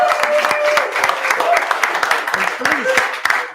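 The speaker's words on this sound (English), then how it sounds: "Round of applause for Sequoia." Audience clapping at an incubator program graduation party, steady and fairly loud throughout, with whoops and voices calling out over the applause.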